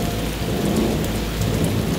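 Summer rain falls steadily with thunder rumbling low underneath, a dense, even hiss of downpour without a break, loud and enveloping, no voices.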